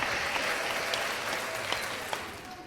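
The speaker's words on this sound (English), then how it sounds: "Let me get another round of applause." Audience applause at a podcast taping: a dense, steady patter of clapping hands that fades slightly toward the end, with a few sharper claps standing out.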